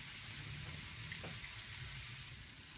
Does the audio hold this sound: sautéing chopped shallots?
yes